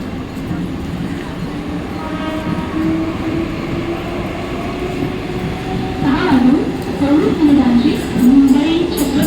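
A Mumbai local train rumbles steadily at a platform at Diva Junction at night, a continuous loud rail drone with a station announcement voice running over it.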